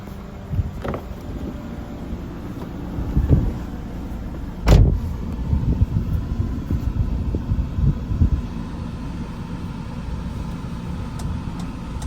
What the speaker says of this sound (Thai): เดี๋ยวเราไปลองขับกลับบ้านกัน